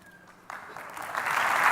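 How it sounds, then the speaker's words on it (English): Audience applause at a talk on reducing diarrheal deaths, breaking out suddenly after a brief quiet start and building steadily louder into dense clapping. "please don't clap"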